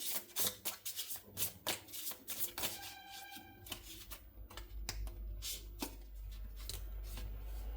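Cards being drawn and shuffled from a small tarot deck, a run of quick papery riffles, slides and taps at close range, steady throughout with no talking.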